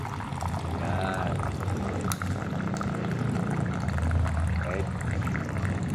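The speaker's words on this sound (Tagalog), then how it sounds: "Ngayon, lagyan natin ng mainit na tubig." Hot water pours for a homemade gum remedy, a steady splashing stream that runs throughout at close range, with a few words of speech over it.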